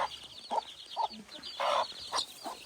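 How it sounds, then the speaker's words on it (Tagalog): Native chickens cluck in short repeated bursts on a hillside onion farm at Mount Batur, Bali, fairly close and moderately loud, with faint background ambience. "Yung native na manok dito"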